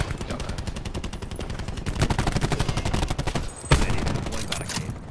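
Gunfire on the Nuketown map in Call of Duty Black Ops 4, a loud steady stream of rapid shots with a heavier blast near the end, sounding more like sustained automatic fire than single sniper cracks.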